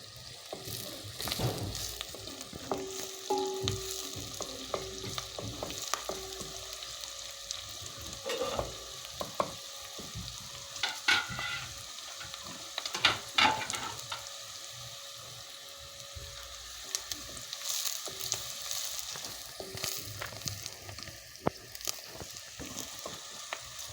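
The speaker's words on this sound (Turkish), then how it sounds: "Soğanımız iyice kavrulması lazım." Onions sauté in a pot for maqluba rice with a steady close sizzle and crackle, broken by scattered stirring clicks and scrapes.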